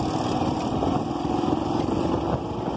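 A motorcycle engine drones steadily and loudly nearby as the bike pops a wheelie on grass, a continuous buzzing roar without pauses or talk.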